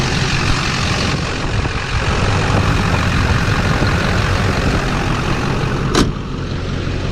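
A 2004 Chevy Duramax diesel truck engine runs steadily at idle, a constant low rumble close by with a brief hiss near the end and no voices.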